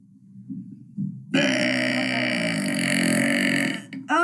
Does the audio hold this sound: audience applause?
no